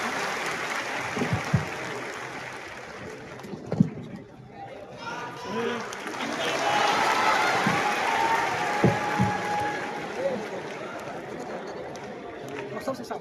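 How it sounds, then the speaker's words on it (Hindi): Audience applause fills a large seminar hall at a coaching event for exam students, a steady clapping wash with crowd chatter and a voice talking over it throughout. "तालियां रुकनी नहीं चाहिए आप लोगों की आज"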